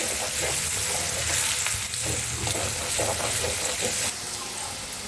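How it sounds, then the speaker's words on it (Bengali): Ginger and garlic fry in a pan for chicken soup, a loud continuous sizzle and crackle with occasional stirring scrapes. "আদা রসুনটা ভালো করে ভাজতে হবে, যতক্ষণ আর কাঁচা গন্ধ যাচ্ছে।"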